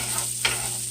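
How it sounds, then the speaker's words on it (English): Onions sautéing in a pan on an electric stove set between medium and medium-high heat, a steady close sizzle with a brief stir, no voices. "We're going to saute those until they're glistening"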